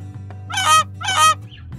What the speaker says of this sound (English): Goose, goose says.